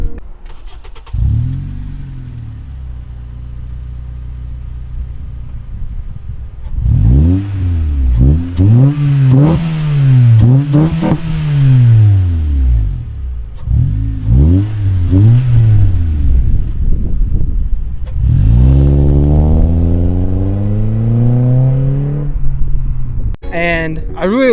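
A modified Acura TSX with an RV6 catless downpipe and Greddy catback exhaust starts and idles, then revs hard several times, the four-cylinder rising and falling in smooth, deep sweeps before a final blip, loud and close.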